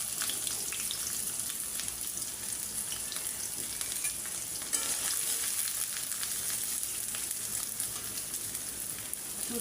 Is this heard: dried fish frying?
yes